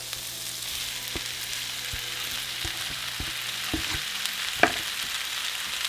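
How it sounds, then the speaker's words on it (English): Vegetables sauté with chile poblano for rajas con queso tamales, a soft, continuous sizzle in the pan broken by occasional taps and knocks of a utensil, with one sharper clank near the end. "we're going to saute them for a couple minutes"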